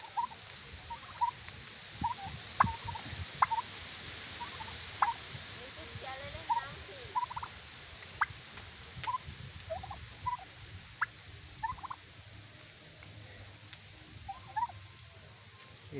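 Turkeys gobbling repeatedly in a farm setting, short loud calls scattered over a steady noisy background, with a person talking intermittently.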